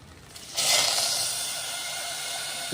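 Water is poured over sugar in a pan to start a syrup, a steady rushing hiss that begins suddenly and continues at close range without talk.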